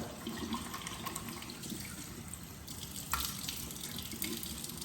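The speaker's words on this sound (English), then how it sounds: "you can go ahead and add some water" Water runs steadily from a tap into a sink during a skincare routine, a quiet constant splashing hiss with a slight change partway through.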